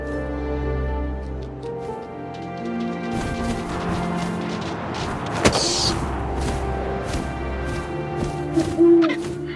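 Owl hoots sound in the video game What Remains of Edith Finch, set against a soft wind bed with rustling and a few sharp knocks and clatters scattered through the scene.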